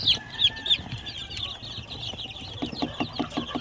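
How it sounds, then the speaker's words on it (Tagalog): A brood of roughly 83 chicks of Shamo, game fowl and heritage breeds, under a week old, peep and cheep in quick, high chirps with soft clucking, scattered and fairly faint, with no talking. "So halo po ito, nasa 83 pieces po yung mga sisiw na ito."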